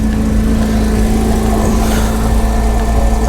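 The electric convertible-top mechanism of a Porsche 987 Boxster runs with a loud, steady mechanical drone and a constant motor whine, unbroken from start to finish with no talking.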